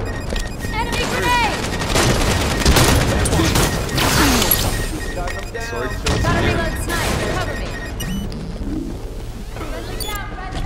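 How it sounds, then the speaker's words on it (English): Dense Halo 5 multiplayer combat with a loud, continuous wash of gunfire and blasts, including an enemy grenade explosion, while someone talks over the action throughout. "Enemy grenade!"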